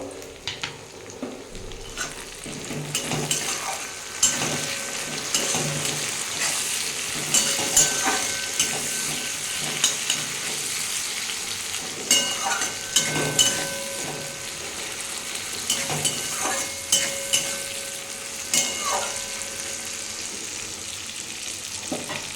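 Onions fry to a reddish brown in a pan, a continuous sizzle broken by frequent scraping stirs and clinks of a spatula at a steady, busy pace.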